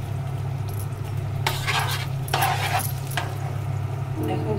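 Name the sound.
butter frying on low heat in a pan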